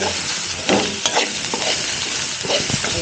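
Tomatoes sautéing in a pan during cooking of a duck curry, a steady close sizzle and hiss with scraping stirring strokes throughout, no voices.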